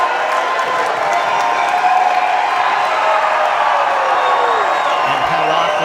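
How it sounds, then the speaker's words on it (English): Loud, sustained applause and cheering from a crowd at a pool match featuring Shane Van Boening, dense clapping mixed with whoops that holds steady throughout, with a commentator's voice faintly under it. "how often do you see him orchestrate a little applause?"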